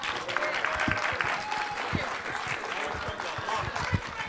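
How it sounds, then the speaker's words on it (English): Wedding guests at a golf club reception applaud in a sustained, dense round of clapping, with voices mixed in beneath it. "A round of applause for both Joanna and Francisco."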